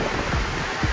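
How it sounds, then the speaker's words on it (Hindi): Rushing river water at the Devprayag confluence, a brief steady roar of flowing current, close and fairly loud, with no voices. "जो पानी के बहाव की जो आपको आवाज़ सुनाई दे रही है"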